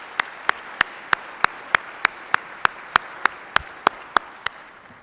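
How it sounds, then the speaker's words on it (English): A single pair of hands claps in slow, evenly spaced beats at an award presentation for community nominees, about fifteen crisp claps over a quiet room. "Let's give another round of applause to this year's outstanding nominees"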